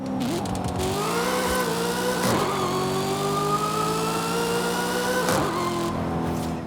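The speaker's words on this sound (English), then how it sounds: "Listen to that shift sound." A supercar engine in Forza Horizon 5 revs and climbs in pitch, broken twice by sharp shift thumps where the tone drops and restarts, loud and continuous without voices.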